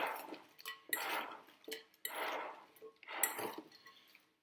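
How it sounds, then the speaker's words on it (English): A halloumi Greek salad dressed with olive oil, vinegar and salt being tossed in a bowl: soft, rhythmic swishing and light clinking in four or five quiet sweeps, close by. "I'm going to just start tossing the salads together."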